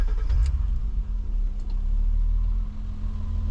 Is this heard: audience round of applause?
no